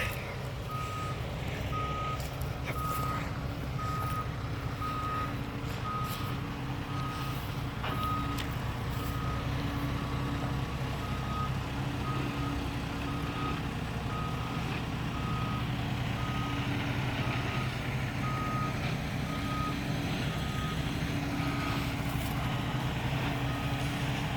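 A dump truck backs up at a home construction site, its reversing alarm beeping in a steady, evenly spaced rhythm over a constant low engine rumble, loud and continuous throughout with no talking.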